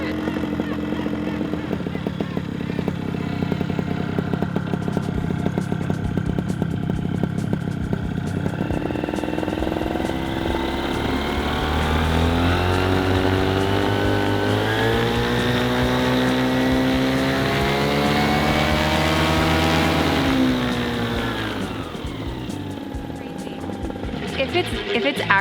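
A brand-new outboard motor, fitted with sealed parts and anti-corrosion-treated screws, runs steadily and then revs up, its pitch climbing and rising in waves before easing back down, close and loud throughout, with no talking over it.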